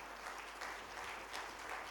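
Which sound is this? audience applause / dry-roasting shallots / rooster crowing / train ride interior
audience applause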